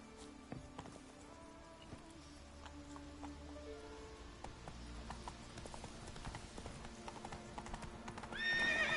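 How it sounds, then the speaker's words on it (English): A horse gallops in The Witcher 3: Wild Hunt, with steady, fast hoofbeats clattering throughout, a faint whinny, and a louder burst of hooves and movement at the very end. "Run, Roach."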